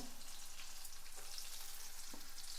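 Fenugreek, mustard seeds, dried red chillies and garlic frying in hot oil as a tempering for a raw mango chutney give off a steady, soft, continuous sizzle close by, with no talking.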